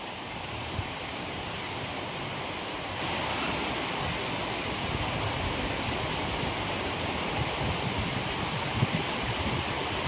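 Steady rain falls in a dense, even hiss, growing a little heavier partway through, with no voices.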